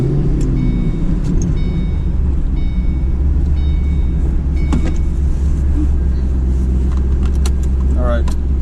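A 2006 Ford Mustang GT with a new Exedy racing clutch and lightweight flywheel drives along, its engine a loud, steady low rumble inside the cabin, with light rattles and a brief voice near the end.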